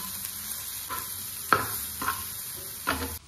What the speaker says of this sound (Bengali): এবার এটাকে মিশিয়ে নেবো ভালো করে, পুরো মশলাটাই মিশিয়ে নেব।